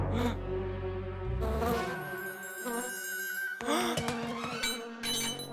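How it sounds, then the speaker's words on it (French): A cartoon bee buzzes in a children's animated show, its steady insect drone running through the clip alongside bright music and sound effects, fairly loud throughout with no talk over it. "Oh, une abeille!"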